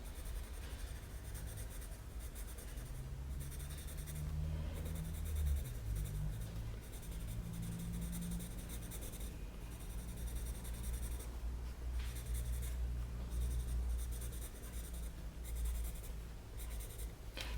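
Coloured pencils scratch and rub steadily across paper while colouring a fire drawing, a close, continuous dry scraping with slight shifts in pressure and pace and no talk.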